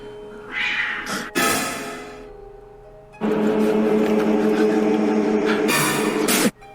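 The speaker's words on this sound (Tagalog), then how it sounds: "nakarinig na ang lalaki na may hawak ng kamera ng isang pusa na para bang" A cat yowls loudly and harshly as if being strangled, a wailing cry followed by a longer sustained screech, close and alone without talk.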